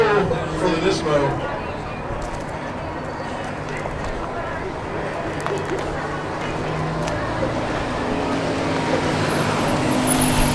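A Nissan GT-R Nismo drag racing against a Dodge Demon at Speed Vegas, its engine noise rising loud and close before settling into a sustained roar, with spectators talking over it.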